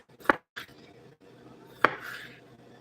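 Knife chopping grapes on a cutting board, two sharp close thuds about a second and a half apart with a shorter softer tap between, followed by a brief scraping drag, no talking.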